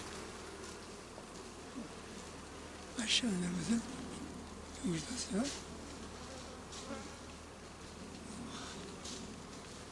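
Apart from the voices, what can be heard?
honey bees buzzing at the hive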